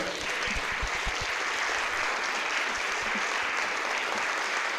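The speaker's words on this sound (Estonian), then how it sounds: "palume Big Bandil püsti tõusta ja publikul teha üks väga-väga soe ja suur aplaus" A large concert audience applauds warmly for a big band after its performance, a dense, steady wash of clapping that stays loud and even throughout with no voices over it.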